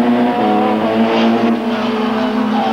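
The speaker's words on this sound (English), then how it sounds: "Probler is right on the BMW's tail" Touring race cars, including a BMW and an Opel Astra, roar continuously at close range during the 1993 South African Super Touring final at Kyalami, engines droning loudly with shifting pitch.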